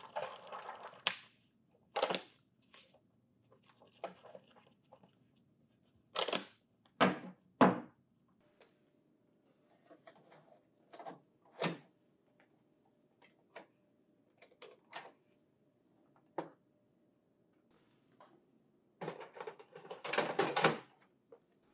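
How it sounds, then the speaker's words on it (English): Paper is loaded into a laser printer's tray and the tray pushed in, giving scattered sharp plastic clicks, slides and clunks in irregular bursts separated by quiet pauses, close and fairly soft. "Adjust the paper guides to match the size of the paper that you are loading"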